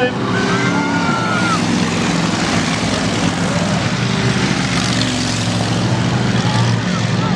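Bomber-class race cars roar around the oval at Wild Bill's Raceway in a heat race, a dense, loud, continuous engine drone with a commentator talking over it.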